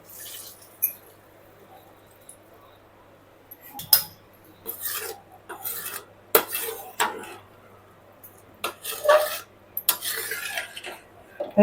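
Rice in hot water is stirred in a cooking pot for Khandeshi masala khichdi, giving irregular scraping and clattering strokes against the metal, separated by quiet pauses.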